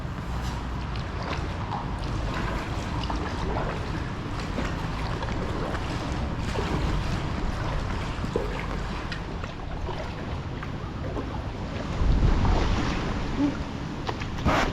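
Blustery wind rumbling and buffeting steadily across the River Ure at Boroughbridge during an inflatable kayak and packraft paddle, with water sloshing beneath, gusting harder near the end.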